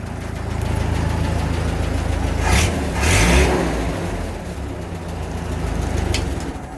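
A Fairmont A car rail speeder engine runs steadily nearby, a low putting idle with a couple of brief louder surges partway through.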